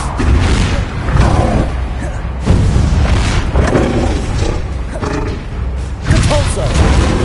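Confringo fire spell explosions in the video game Hogwarts Legacy, a series of loud booming roars and rumbling blasts in quick succession, mixed with shouting voices over dense, continuous game noise.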